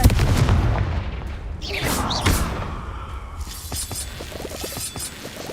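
The Confringo spell blast in Hogwarts Legacy lands as a loud, close explosive burst with a shattering crack and whooshing debris, then a rumbling tail of scattered crackles fades away.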